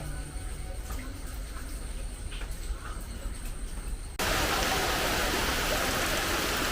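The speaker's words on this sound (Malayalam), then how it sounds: "മഴ" Rain pours down steadily, a soft patter that suddenly swells into a louder, dense hiss of heavy rainfall.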